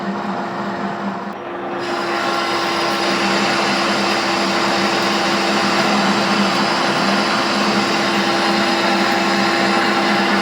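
Heavy cutting on a metal lathe with a carbide tool pushed hard, turning a part for a puller down toward 6 inches; a loud, steady broadband roar with a constant hum that holds for the whole stretch after a brief dip near the start.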